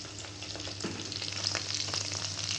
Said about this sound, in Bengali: করে ভাজছি।